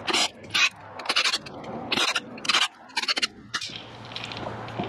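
Bolts on the clutch pressure plate of a 2022 Beta XTrainer 300 motorcycle are spun off with a ratchet or driver. The clip holds repeated short bursts of scraping, rasping clicks separated by brief pauses, close up, with no talk.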